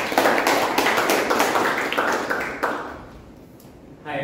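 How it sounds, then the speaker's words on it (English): Audience at a Toastmasters club meeting applauds a speaker: dense, loud clapping from the start that thins out and fades after about three seconds, a few claps returning at the end. "Let's have a big round of applause."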